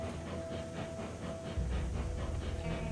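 Betsy, a steam locomotive in the Railroads Online video game, chuffs along with a steady rhythmic hiss and rumble, and the low engine drone grows heavier partway through.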